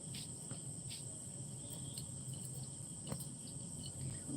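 Crickets and other insects chirr steadily on a still, windless night, a faint, continuous high-pitched trill with a few soft clicks and bumps close by.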